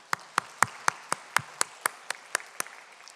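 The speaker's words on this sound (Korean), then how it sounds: "우리 박수해 주시기 바랍니다." Church congregation clapping in a steady, evenly spaced rhythm, about a dozen crisp claps in unison, moderately quiet, with no voices over them.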